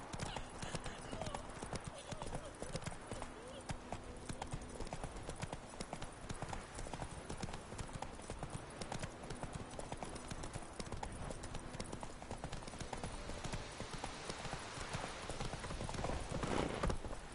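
Roach's hooves clip-clop in The Witcher 3, a continuous even trotting rhythm held at a moderate distance over a soft bed of game ambience.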